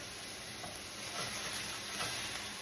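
Steak frying in a pan for a low-carb Philly cheesesteak gives off a soft, steady sizzle, a quiet even hiss with faint crackles and no voices.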